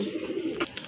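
A pair of domestic pigeons at a Bangladeshi bird seller's, giving soft low cooing that runs steadily for about a second, close and fairly quiet.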